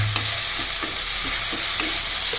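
Drumstick stir-fry with tomato and curry leaves tossed in a pan, a loud continuous sizzle with quick rhythmic spatula scrapes close by.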